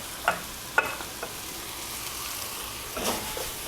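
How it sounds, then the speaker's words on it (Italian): Soft, quiet sizzling of onion frying in a pan with a few light clinks and stirring scrapes, fairly close and without any voices. "lo facciamo scaldare, quindi cominciamo a far stufare la cipolla"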